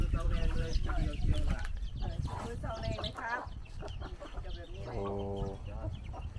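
Chickens clucking on a Lao village farm, repeated cackles and a rising squawk over a noisy outdoor background, with people talking at moments.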